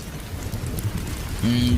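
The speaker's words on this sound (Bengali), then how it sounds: "আর বৃষ্টির ধারা দেখে মনে হচ্ছে অল্প কিছু সময়ের মধ্যেই থেমে যাবে।" Steady rain falls in a Bengali horror cartoon, a continuous wash of noise with no voices, joined near the end by a brief low tonal hum.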